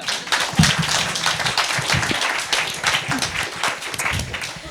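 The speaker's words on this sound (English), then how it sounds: "We'll clap for you too, Sophie." Audience applause at a curators' talk on Berthe Weill and the Parisian avant-garde, a dense, steady wash of many hands clapping for nearly five seconds with no break.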